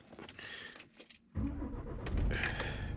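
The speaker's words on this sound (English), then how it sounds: "Now the engine's running." A car engine cranks and catches after a brief quiet gap, then settles into a steady idle, with some jangling keys and cabin rustle beforehand.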